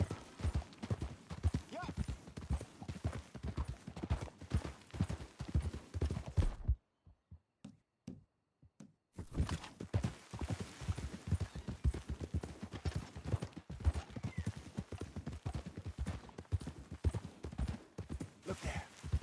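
Horse hooves galloping in the Red Dead Redemption video game, rapid rhythmic clip-clop throughout with a short silent gap midway, loud and close.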